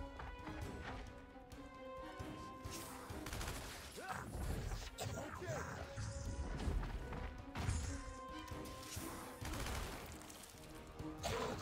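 Gunfire in the tactical shooter Gears Tactics, a dense run of shots and impact crashes layered over a steady game soundtrack, with bursts clustering in the middle and near the end.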